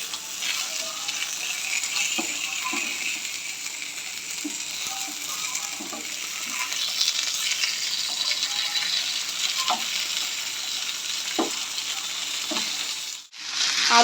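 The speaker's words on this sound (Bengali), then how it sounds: "মাছ ভাজা হয়ে গেছে" Fish fries in a pan with potatoes and shredded carrot, giving a steady close sizzle with occasional soft clicks of utensils, broken by a sharp handling knock near the end.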